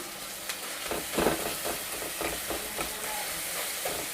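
Tomatoes frying in oil in a pan for an egg curry, a soft continuous sizzle with small crackling pops, fairly quiet and without voices.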